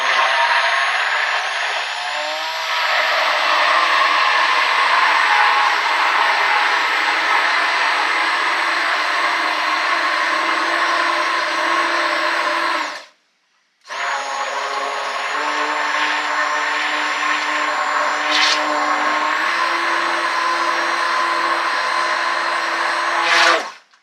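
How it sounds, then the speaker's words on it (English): A corded immersion blender whirs steadily at high speed for a long stretch, stops briefly, then starts again and keeps running, loud and close. "I have an immersion blender. So it's a corded blender, it's powered."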